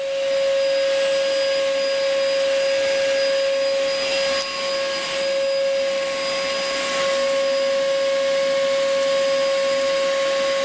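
A dust extractor drones steadily and loudly throughout with a constant high whine over broadband rushing noise, and no talking.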